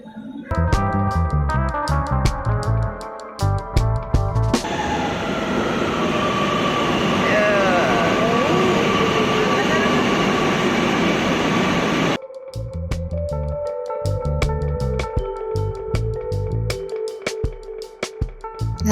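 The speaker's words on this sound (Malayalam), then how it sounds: "മെട്രോ" A Kochi Metro train runs with a loud, sustained rumble and rushing hiss through the middle stretch, framed before and after by music with tonal chimes.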